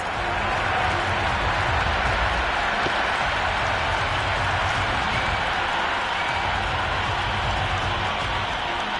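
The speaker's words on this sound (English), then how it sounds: "Will you listen to that crowd? They are loving this." A large stadium crowd in the video game Cricket 26 on PS5, India vs Australia, roars and applauds continuously, a dense, steady wash of cheering that fills the whole clip.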